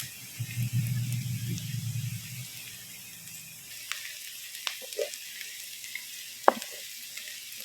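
Pav bhaji frying in butter, street-food Mumbai style, gives a soft steady sizzle for the first few seconds, then quieter scattered clinks and scraping stirs with a faint voice now and then.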